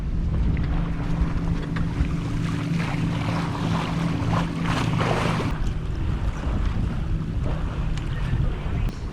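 Sailboat on a beam reach making about five knots on a nice day, steady wind buffeting and water rushing past the hull, with a low tonal hum in the first half and close, continuous noise throughout.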